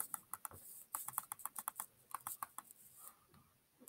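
Fingers tap a computer keyboard close by while coding a cat game in Scratch, in quick irregular bursts of crisp clicks with a brief pause near the end.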